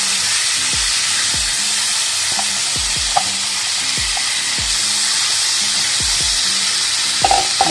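Salted mango pieces and masala sizzle and fry steadily in a pan, a continuous dense hiss with occasional soft stirring clicks and low thuds throughout, close and fairly loud, with no talk.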